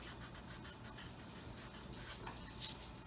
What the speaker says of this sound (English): I'm going to come in and erase right here.